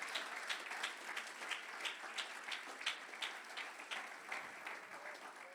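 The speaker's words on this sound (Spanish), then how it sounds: "Denle un fuerte aplauso al Señor." Applause from a church congregation, a faint, steady patter of many hands clapping, with soft rhythmic accents rising through the wash of sound and no talk over it.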